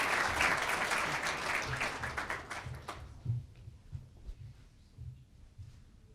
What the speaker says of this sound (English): So let's give her a round of applause for Miss Slma Shelbayah,